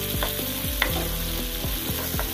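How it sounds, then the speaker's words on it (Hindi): Peas fry with onions in a pan, an even sizzle broken by repeated scraping strokes of a spoon stirring at a steady rhythm, close and without talk. "अब इसमें मैं मटर डाल दूंगी, जिससे मटर भी थोड़ी हमारी सिक जाएगी।"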